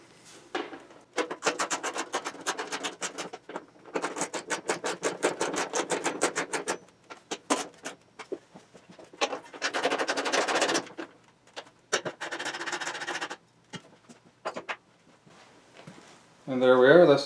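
Bolts being tightened on the cover of a Honda HSS1332 snowblower, heard up close as repeated bursts of fast ratcheting and rasping clicks separated by short quiet pauses.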